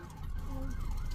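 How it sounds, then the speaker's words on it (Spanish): An ambulance siren wails briefly at moderate distance, its rising and falling tone heard over low traffic-like rumble on a street. "La ambulancia."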